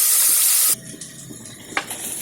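Onions with turmeric powder and salt frying in a clay pot, a loud hiss at first, then a softer steady sizzle with light stirring scrapes and one brief clatter.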